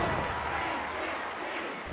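A wrestling arena crowd in the WWF War Zone video game roars in a continuous, dense wash of cheering noise, steady and fairly loud for the whole moment, with no distinct individual voices standing out.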